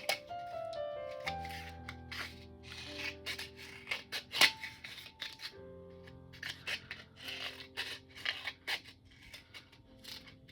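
Scissors cutting paper open along both sides to make a tiny pocket journal, a series of close, crisp snips and rustling paper crackles in an irregular rhythm, with no talking.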